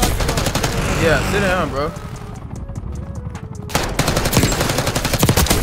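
AK rifle firing in Call of Duty: Black Ops 6, with rapid automatic bursts that end in a loud, fast rattling stream near the close while a player talks over the game sounds.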